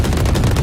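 Rapid bursts of gunfire during a Valorant tournament match, loud close shots in quick succession over a fraction of a second with no talk.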